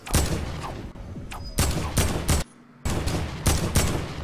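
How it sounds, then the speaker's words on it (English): Rapid bursts of automatic gunfire in the Fortnite video game, several loud volleys separated by short pauses, close and dominant with no talking. "shoot one more person with that"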